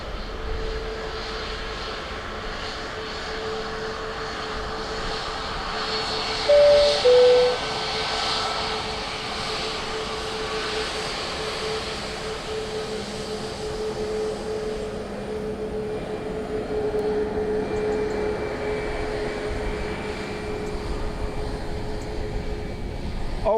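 An airplane lands on runway 28 left at Dublin Airport, heard as a steady, distant engine roar that holds evenly throughout and swells slightly toward the end.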